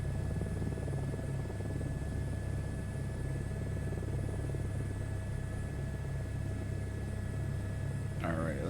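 Steady droning helicopter engine and rotor hum in Microsoft Flight Simulator 2024, constant and moderately loud throughout, ending with a brief rising whine.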